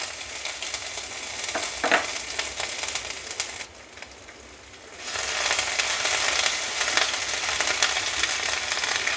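Crushed fennel, ginger and garlic fry in oil over low heat, giving a dense, steady hiss with a few stirring clicks, a brief quieter lull midway, then the sizzle swells loud again.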